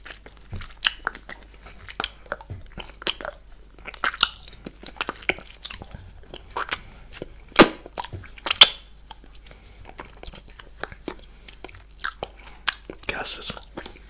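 Close-miked ASMR mouth sounds of eating a ball-shaped lollipop: intermittent crisp bites, crunches and wet clicks scattered irregularly, with a few sharper snaps, and no talking.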